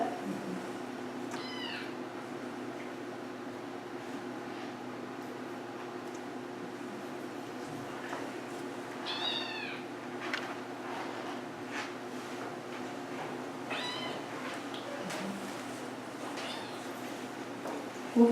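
A cat meows several times at intervals during a veterinary clinical examination, short rising-falling cries over a steady low mechanical hum in a quiet room.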